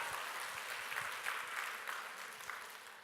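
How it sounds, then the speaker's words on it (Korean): A church congregation claps together during a sermon, a faint, distant-sounding wash of steady applause lasting a few seconds with a handful of louder claps near the front. "이럴 때는 박수를 힘차게 하는 거예요"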